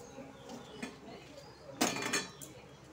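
A pot of cooked rajma is lifted off a stove in a quiet kitchen, giving a short, sharp metallic clank and clatter after faint background rustling.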